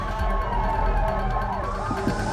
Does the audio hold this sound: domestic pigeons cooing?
no